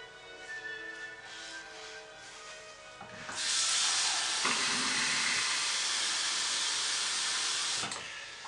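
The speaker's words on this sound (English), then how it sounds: "Make a little bit of noise like always with the stick blender." After a few seconds of low hum, a stick blender mixing soap kicks on and whirs loudly and steadily for about five seconds before cutting off.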